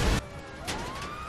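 A police car siren in the video game GTA V wails in a brief rising sweep after a short burst of noise, fairly faint and heard alone with no talk.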